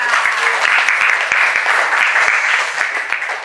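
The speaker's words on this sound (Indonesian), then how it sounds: "Tepuk tangan." A class of students applauding, brisk bright clapping from a group at close range, steady and unbroken for a few seconds with occasional sharper individual claps.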